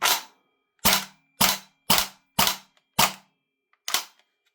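Airsoft rifle fitted with a Sig Sauer Tango6T scope firing seven sharp, close semi-automatic shots at a loose, uneven pace, each a crisp snap with a short decay and silence between.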